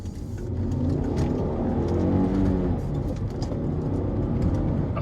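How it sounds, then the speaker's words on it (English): A 2013 Volvo C30 R Design's five-cylinder engine revs hard and steadily while driving, a loud, continuous engine note that rises and holds across the whole stretch, with no talking over it. "That 5-cylinder sound is awesome."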